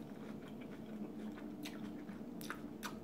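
Close crunchy chewing and biting of tuna lettuce wraps with cucumber and tomato, soft and near, with a few sharp crisp bites standing out near the end and no talking.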